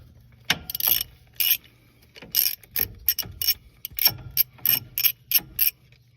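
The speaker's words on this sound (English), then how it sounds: "So we'll get the 14mm socket onto those mounting bolts and get it out." A ratchet wrench with a 14mm socket loosens clutch slave cylinder mounting bolts. Quick bursts of loud, close clicking repeat in an uneven rhythm, with short pauses between strokes.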